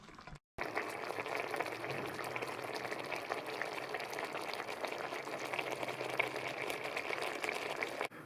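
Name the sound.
eggs heating in simmering Sri Lankan egg curry sauce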